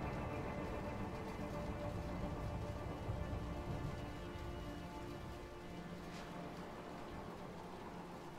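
Steady rain with low rumbling thunder in the video game A Way Out, a continuous wash of downpour lasting throughout with no talk.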